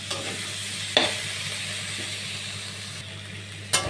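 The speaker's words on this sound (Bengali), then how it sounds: "তো অল্প এখানে খোসা দিয়ে আমি একটু নাড়াচাড়া করে নেব আবারও।" Pointed gourd peels frying in a pan being stirred, a low steady sizzle with two sharp clacks of the spatula against the pan.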